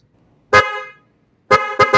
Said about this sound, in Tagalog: So ito, magtasubok tayo ng G-Star horn.